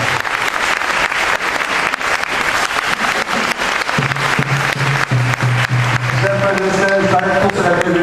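A church congregation claps loudly and continuously at a service, with the applause filling the room while a sustained organ or keyboard tone comes in partway through.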